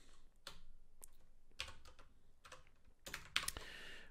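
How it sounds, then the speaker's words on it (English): Computer keyboard typing in quick, irregular bursts of key clicks, close and fairly quiet, with a louder clatter of strokes near the end. "if you hold shift and press different characters on the keyboard, you get like different things"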